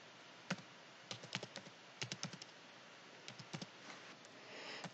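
Keys on a computer keyboard tapped in short irregular bursts while dates are entered into an Advent calendar post, crisp close clicks alone with quiet pauses between runs.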